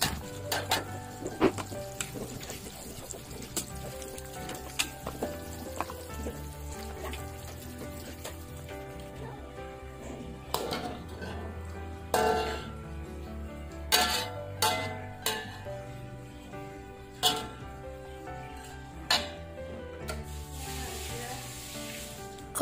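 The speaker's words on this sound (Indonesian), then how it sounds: "Jadi sekarang kita bakal goreng teri Medannya." Medan anchovies frying in clear oil in a home kitchen, giving a steady sizzle with scattered sharp crackles and pops, close and moderately loud, with no talk.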